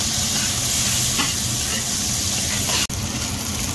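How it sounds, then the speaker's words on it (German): Butter sizzling in a frying pan with onions and bacon, a loud steady hiss and crackle with a brief drop near the end, no talk. "wenn die Zwiebeln und der Speck ein bisschen angeröstet sind, schmeißen wir ein bisschen Butter dazu"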